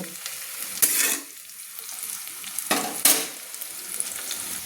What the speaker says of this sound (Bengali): আমার পেঁয়াজটা লাল লাল করে ভাজা হচ্ছে